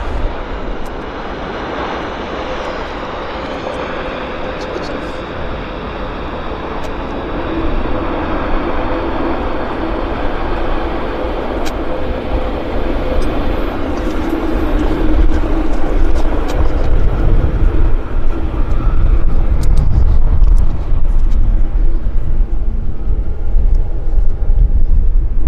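A heavy Air Canada airliner on its Heathrow service lands at Vancouver airport and rolls out toward the end of the runway, a broad steady engine roar that builds and grows louder and rumbling over the closing seconds.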